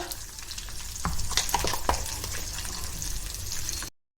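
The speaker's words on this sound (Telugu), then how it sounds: "ఇది మొత్తం ఒకసారి కలుపుకొని కొద్దిగా ఒక రెండు నిమిషాలు అలాగలాగా కలుపుదామండి" Horse gram chutney mixture with coriander sizzles in a pan as it is stirred, a steady close crackle with a few sharper spoon knocks, cutting off abruptly near the end.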